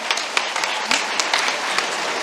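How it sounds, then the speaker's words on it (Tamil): Audience applause fills an award ceremony hall, a dense, steady crackle of many hands clapping at close range with a few sharper bursts standing out over the two seconds. "எல்லாம் ஜோராக கைத்தட்டலாம் நினைக்கிறேன்"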